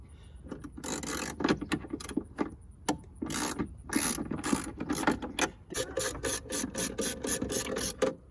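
A ratchet removes the nuts holding a light on a V6 Mustang, producing bursts of rapid close clicking pawl ratcheting, separated by short pauses and ending in a steady run of quick strokes.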